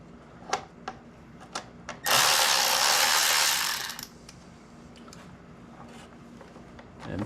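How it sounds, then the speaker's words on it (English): Power driver with a T30 Torx bit backing screws out of a 2024 Harley-Davidson Nightster, a few light clicks and taps, then a single loud buzzing whir lasting about two seconds before faint handling sounds. "So we're going to take a T30 Torx bit and remove these 2 screws here"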